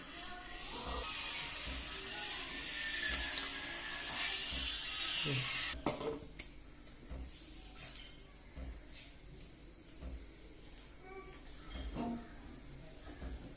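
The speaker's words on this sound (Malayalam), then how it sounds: "ചൂടായി അതിലോട്ട് കുറച്ച് നെയ്യ് ഒഴിച്ചെടുക്കാം" Ghee poured into a hot kadai for a veg biriyani masala gives a loud, bright sizzling hiss for about six seconds. It then drops to quiet kitchen sounds with faint clicks, and no one talks.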